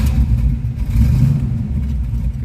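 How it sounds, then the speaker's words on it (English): A 1973 Chevrolet Corvette V8 with side pipes idles loud and close, a deep throbbing exhaust rumble with slight rises in revs and no talk over it. "nice sounding car with the side pipes on it"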